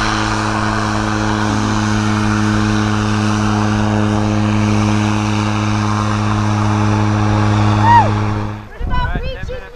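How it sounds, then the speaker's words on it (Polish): Propeller airplane landing on a high mountain airstrip in fog, a steady loud engine drone with strong harmonic hum that fades out near the end as voices break in. "Drugi samolot właśnie wylądował."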